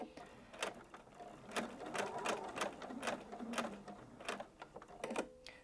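A sewing machine stitches fabric in short, uneven runs broken by sharp mechanical clicks and taps. The needle-down and foot-lift controls clack as the fabric is pivoted, all close and fairly quiet, with no talking.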